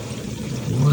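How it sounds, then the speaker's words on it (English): Water pours and trickles down from a leak around a bathtub, a steady splashing flow that grows louder toward the end, with a voice partly over it. "there sure is water coming down from somewhere"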